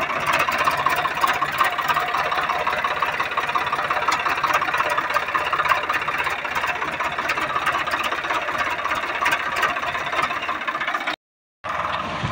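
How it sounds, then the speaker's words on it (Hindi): A Swaraj 855 FE tractor engine runs steadily under heavy load, carrying a Yanmar 85G harvester on the move to another field. The loud, continuous diesel drone carries a rattly texture throughout, with a brief dropout near the end. "गाइज आप सभी लोग स्वराज की आवाज़ चेक करो, कितना बढ़िया साउंड निकल रहा है स्वराज 855।"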